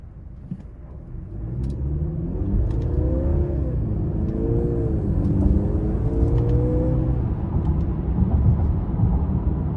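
A 2023 Mercedes-Benz GLC 300 4MATIC accelerates hard in sport mode, its engine note climbing steadily through the gears with brief dips at each paddle shift, heard from inside the cabin over a constant road rumble.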